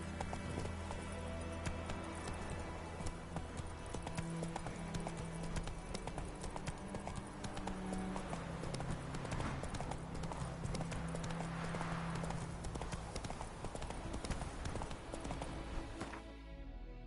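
The horse Roach gallops in a video game, a fast, steady, close clip-clop of hooves drumming continuously over layered game music before cutting off at the end.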